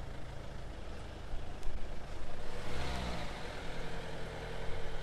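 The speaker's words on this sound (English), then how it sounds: "Now, what is this with all these cars now?" Cars and heavier traffic rolling along a street in Ljubljana's city centre, a steady engine and tyre rumble with one vehicle swelling louder as it passes close by midway, no talk over it.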